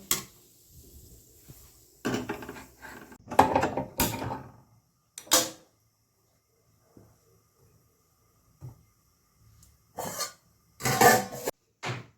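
Pot of rice set on to cook in a home kitchen, heard as scattered metallic clanks and scrapes of pot and utensils in separate bursts with quiet gaps, close by and without talk.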